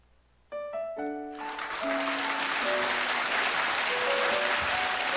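A standing ovation for a 93-year-old at Carnegie Hall in New York: a few held musical notes, then a dense, loud roar of clapping that swells and stays steady to the end.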